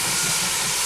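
A British Rail steam train pulls away with a loud, continuous broadband hiss of escaping steam, close and filling the whole moment.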